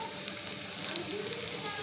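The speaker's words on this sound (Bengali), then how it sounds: "পেঁয়াজটা ভাজা হয়ে গিয়েছে," Onions sizzle steadily while frying in a pan, a brief, even crackle at moderate loudness.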